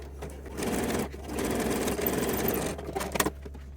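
A domestic sewing machine top stitching picot elastic on lingerie, a loud steady whirring needle rhythm broken by a brief pause, then resuming before a few short uneven bursts and a stop.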